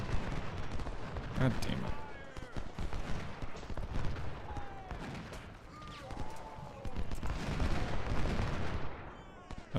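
Artillery fire in the video game Ultimate General: Civil War booms repeatedly at a distance under scattered gunfire, while someone speaks over the battle noise.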